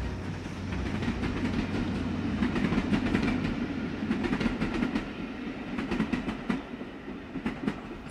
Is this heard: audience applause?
no